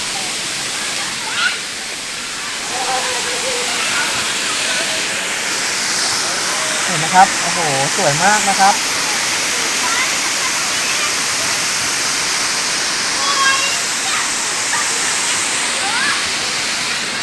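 Huai Mae Khamin waterfall in Kanchanaburi, Thailand, pours in a steady, broad rush of falling water, with someone talking over it near the middle of the clip.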